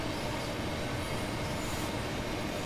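Class 377 electric multiple unit rolling past in the Train Sim World 5 simulator, a steady broadband rumble of wheels and carriage noise holding even throughout, close and fairly loud with no voices.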